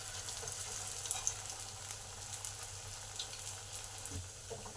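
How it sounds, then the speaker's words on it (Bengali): Pea croquettes (motorshutir chop) fry in oil, giving a soft, even bubbling hiss with occasional tiny crackles, close but fairly quiet and continuous. "এবার বাকি চপগুলো ভাজবো আস্তে আস্তে করে।"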